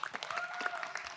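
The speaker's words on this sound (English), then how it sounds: "Hand clap to you." Brief, faint applause from a convention Q&A audience gathered for Power Rangers actor Jason David Frank, a short patter of claps with no talk.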